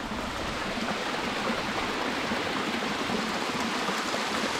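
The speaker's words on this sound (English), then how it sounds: "The waterfall goes all the way down to the lake." A waterfall pours steadily down toward a lake, a dense, unbroken rushing roar with no voices over it.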